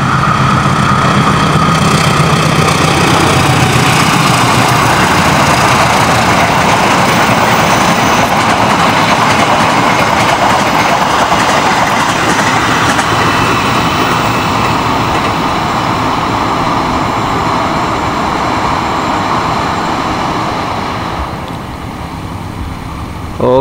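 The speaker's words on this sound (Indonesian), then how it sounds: "Kahuripan nomor K284 dari Kiara Condong Bandung tujuan akhir Blitar. Sudah melintas langsung stasiun Delanggu." Kahuripan K284 passenger train, Kiara Condong Bandung to Blitar, running straight through Delanggu station without stopping; a loud, continuous roar of wheels and carriages with rail clatter, sustained close by before easing at the end.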